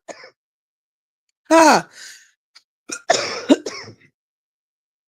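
A person's dry cough and throat clearing, a few short harsh bursts with gaps of silence between them, close and fairly loud, with a brief spoken sound at the start.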